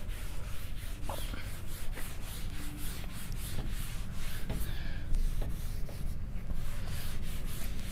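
Chalk or marker scratching across a board during a quantum mechanics lecture, with short rubbing strokes and taps at an uneven writing rhythm over a steady room hum.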